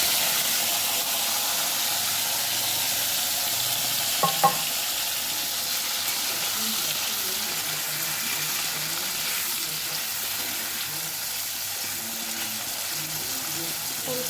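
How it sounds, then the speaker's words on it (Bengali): Cauliflower frying in hot oil in a pan, a steady close sizzle continuing throughout, with a brief clink of a utensil early on. "তারপর দেখো এই যে ফুলকপি ভেজে তুলে নেব।"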